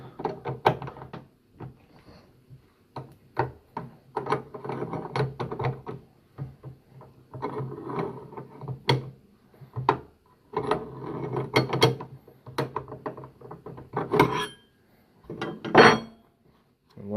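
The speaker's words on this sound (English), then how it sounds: "you have to get your barrel nut wrench and undo the barrel nuts." A barrel nut wrench working loose the barrel nuts on an airsoft gas blowback rifle, a series of close metallic clicks, ratcheting scrapes and clanks in uneven bursts separated by short pauses.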